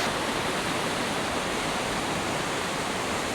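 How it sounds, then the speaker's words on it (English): Waterfalls pouring down the walls of a mountain creek gorge make a steady, dense roar of rushing water, loud and close, with no voices over it. "You've got waterfalls coming down there everywhere, and then all down through here."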